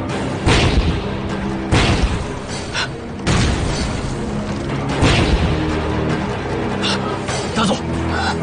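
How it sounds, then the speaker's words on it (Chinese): Loud explosions from a war film battle scene, several heavy booming blasts in succession with rumbling low-end tails and debris crackle, dense and close throughout. "爆炸的方向是？"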